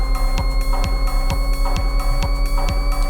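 Stacked octave sine tones forming a Shepard-tone riser in a techno track, a smooth layered hum held steady under a regular throbbing low pulse that repeats roughly every third of a second.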